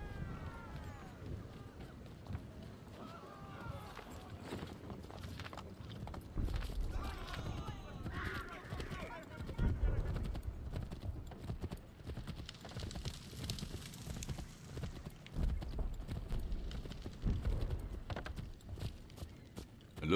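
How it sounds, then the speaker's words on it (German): Rhythmic clip-clop of horse hooves at a steady pace in Assassin's Creed III Remastered, mixed with game sounds and background talk throughout. "Das Pferd besteigen."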